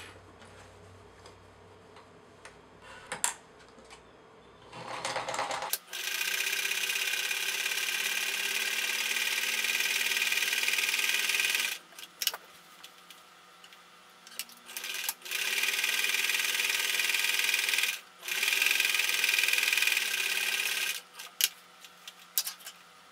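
A sewing machine top stitching fabric face mask pockets runs in several long steady bursts, separated by brief pauses with clicks and handling noises, close and fairly loud, with no talking.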